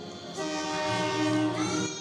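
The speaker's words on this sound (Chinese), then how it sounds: "业手连接茶联自强号列车退役，火车迷客满月台，要翕列车最后一个进站的画面。" A DR2800 Tze-Chiang express diesel train pulls into a station, its loud sustained horn sounding over rumbling rail noise for about two seconds.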